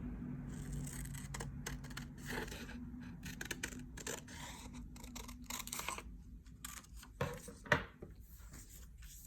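Scissors cutting a paper triangle along a line, a quick series of close, crisp snips and rustles at low volume, with one louder crunch near the end.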